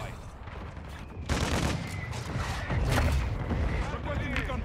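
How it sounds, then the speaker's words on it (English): Mortar strike explosions in the Call of Duty Modern Warfare 2 video game, a dense run of booming blasts and rattling gunfire that swells louder partway through and keeps rumbling steadily to the end. "Friendly mortar strike inbound."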